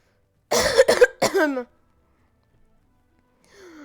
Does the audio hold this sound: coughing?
yes